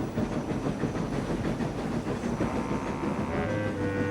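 Steam engine from a Thomas & Friends cartoon running on rails, a steady rumbling chug with rhythmic clatter and hiss, moderately close and alone.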